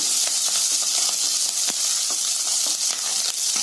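Ginger, green and red chilies and curry leaves sauté in hot oil with a loud, dense, continuous crackling sizzle and faint stirring taps.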